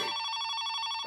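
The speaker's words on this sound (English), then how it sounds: "It's the phone, dimwit." A cartoon telephone bell rings loud and close in one continuous trill of rapid strikes, ending abruptly as a voice begins.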